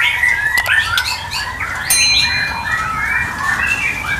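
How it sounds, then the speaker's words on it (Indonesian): A white-rumped shama (murai batu) sings close by in a rich, varied stream of whistles, chirps and squawks that continue without pause. "ini burung murai batu termahal di dunia selama ini yang saya dapat mas"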